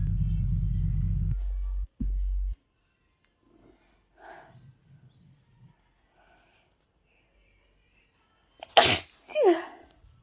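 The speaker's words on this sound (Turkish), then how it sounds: "Hapşıracağım şimdi." A single loud sneeze erupts near the end, preceded by a short low engine-like rumble and quiet faint sounds in a mostly silent space.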